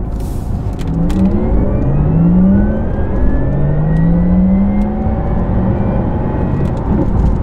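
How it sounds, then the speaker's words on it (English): A Porsche Taycan 4S electric car with its electronic sports sound switched on accelerates steadily, a synthetic engine-like whir rising in pitch in sweeping tones, with a shift in tone partway through. "hopefully you can hear the sound both with this electronic sports sound on, but also hear the gear change"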